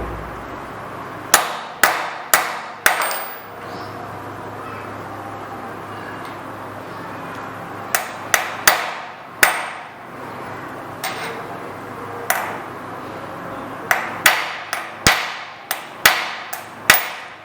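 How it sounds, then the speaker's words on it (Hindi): On a Suzuki GS-150, a hammer strikes a steering stem bearing race into its seat: sharp metallic blows in uneven bursts of single hits and quick clusters, with pauses between, loud and close. "इसको इसकी जगह पे अल्टरनेटली स्ट्राइक करते हुए हमने सीट करना है।"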